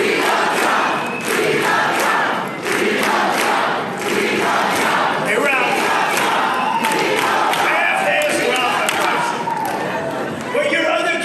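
A large crowd cheers and shouts inside a packed room at a Donald Trump event, a loud continuous roar with rhythmic chanting and bursts of yelling throughout.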